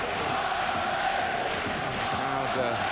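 A football crowd at Ewood Park roars and chants during an FA Cup replay between Blackburn Rovers and Arsenal, a dense, sustained stadium din with rising shouts throughout.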